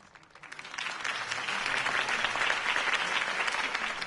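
A crowd at a political campaign rally in a Batman video game breaks into applause, swelling from quiet to a full, steady roar of clapping that carries through to the end.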